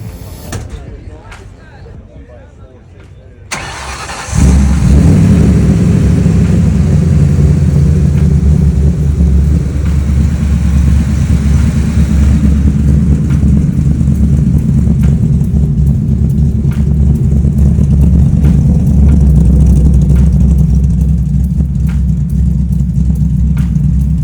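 A custom Ford F100 truck's engine turns over and fires after a few quiet seconds of voices, then settles into a loud, close, deep rumbling idle that holds steady, with people talking faintly nearby.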